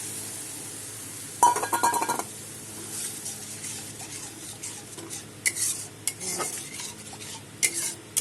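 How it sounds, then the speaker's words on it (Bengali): Spoon scraping and stirring mustard paste through a spiced koi fish curry in a pan, with a couple of louder knocks and clinks against the metal over a faint sizzle, steady and close with no talking. "এটা কিছুক্ষণ নেড়ে চেড়ে তারপরে জল দিয়ে দেব"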